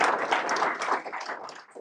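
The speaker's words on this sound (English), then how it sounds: "Let's all give them a big round of applause." Audience applause at a JavaScript developer meetup, a dense burst of many hands clapping at close range that thins slightly toward the end of a short stretch.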